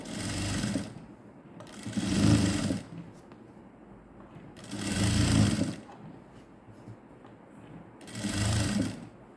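A sewing machine stitches a skirt waistband made from an old silk saree in three separate bursts of rapid mechanical whirring, each a couple of seconds long, with quiet pauses between them and no speech.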